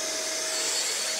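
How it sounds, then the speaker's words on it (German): A cheap 30-euro vacuum cleaner runs very loudly, a dense steady roar with a thin whine throughout, close and unbroken. "Bleibt noch dieser Staubsauger für 30 Euro."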